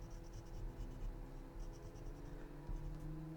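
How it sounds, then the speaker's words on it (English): Graphite pencil shades the outer edges of scalloped shapes on paper, producing soft, close, repeated scratchy strokes in a quiet room. "I'm putting graphite on the outside edge of all of the scallops that we started with"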